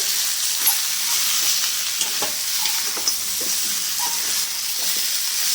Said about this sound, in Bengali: ছ মিনিট ধরে মাংসটাকে কষে নিলাম ভাজা ভাজা হয়ে গেছে মাংসটা